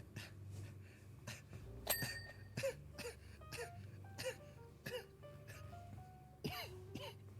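Several sharp coughs and throat-clearing bursts scattered through a noisy room, with tonal beeps and background chatter underneath.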